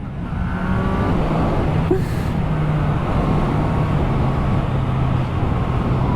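A car pulls hard in first gear during a traction-control safety training day on a track, its engine a loud, sustained drone that holds strong and close throughout.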